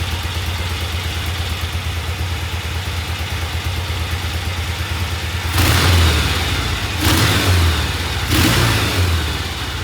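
Norton motorcycle engine idling with a steady low throb, then blipped three times in quick succession into louder revs that fall back to idle between each, close and without talk.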